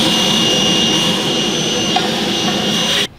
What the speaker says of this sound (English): Just lift it out and clean this off, vacuum it up if you so wish.